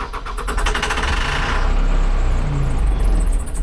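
A backhoe tractor's diesel engine cranks with rapid rhythmic chugging, then settles into a low, heavy rumble, loud and close on a New England property in fall.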